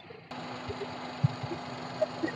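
A 2014 Maruti Alto 800 LXI petrol car engine idles with a steady, even hum heard up close, marked by a few faint clicks and taps; no talking.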